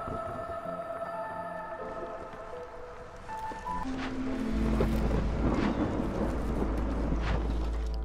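Storm ambience from the video game Against the Storm, with rumbling thunder and rising wind and rain that grow louder partway through, under tonal game music.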